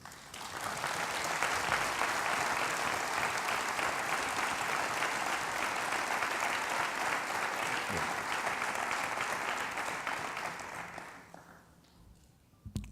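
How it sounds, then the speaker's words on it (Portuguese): Sustained applause from a conference audience at a national health convention in Lisbon, loud and dense for about eleven seconds before tapering off near the end. "peço para todos eles uma grande salva de palmas"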